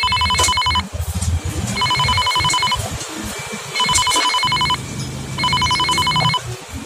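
A telephone rings in repeated electronic trills, four bursts with pauses between, fairly loud over a low background hum.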